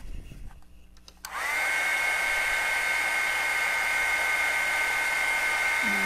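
A hair dryer switches on after a moment of quiet and blows steadily and loudly to dry a spot on a craft piece, holding a constant high-pitched whine to the end.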